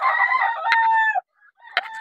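A gamefowl rooster in a backyard gamefarm crows loudly and close, breaks off briefly, then follows with a few short clucks.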